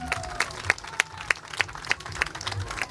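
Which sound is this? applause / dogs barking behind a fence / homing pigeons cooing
applause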